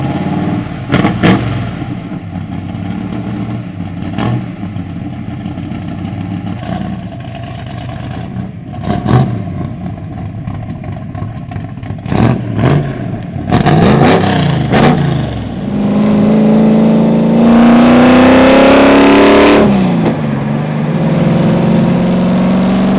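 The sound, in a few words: 1963 Ford Fairlane NASCAR-inspired car engine revving, accelerating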